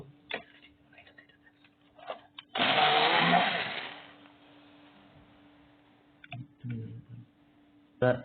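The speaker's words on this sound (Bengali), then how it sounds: "এই মেশিনটা দিয়ে ব্লেন্ড করব।" A hand blender whirs loudly in one burst of about a second and a half while blending mango juice, with scattered clicks and handling noises before and after, and soft talk around it.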